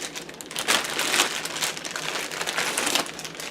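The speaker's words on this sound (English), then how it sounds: "Let's see if I can get the bag off" A plastic bag crinkles and rustles continuously as it is pulled off a boxed rifle scope, close and fairly loud, with no talking.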